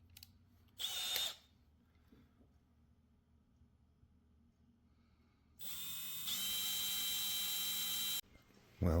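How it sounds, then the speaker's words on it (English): A power drill whirs in a short burst, then after a pause runs again in a longer, steady high-pitched stretch drilling holes in a model Roman ballista, close by. "first I'm going to drill these holes and get that lined out."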